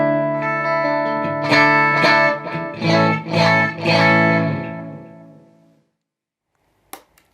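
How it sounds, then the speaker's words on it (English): Clean electric guitar tone, unprocessed before a TC Electronic DarkMatter Distortion comparison, rings out in strummed chords with sustained harmonics, fading to silence, then a brief tap. "First, here's my clean sound."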